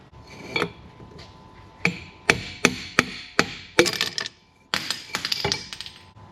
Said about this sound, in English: put this rod up against it, and then it should take a hammer and knock it out